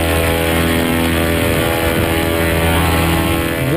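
A paramotor engine and propeller at takeoff, a loud continuous buzzing engine drone with a high propeller whine, steady throughout and rising slightly at the very end.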